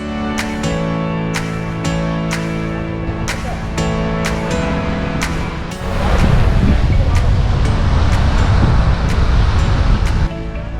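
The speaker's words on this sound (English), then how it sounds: "listening to the splashing of the waves and indulge in the pleasant breeze" Ocean waves at Gokarna beach in Karnataka, India, a steady surf wash mixed with wind noise, rising to a louder broad rush midway and continuing at high level.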